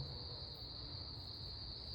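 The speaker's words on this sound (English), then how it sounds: "If you could listen in the background, it's like frogs and birds." A dense, steady chorus of crickets or other insects chirrs at a distance after a heavy Florida rain, high and unbroken over a faint low rumble.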